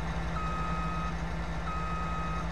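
In a farming video game, a tractor reverses with an electronic beeper sounding two long steady tones over a constant engine hum, clear and close with no speech.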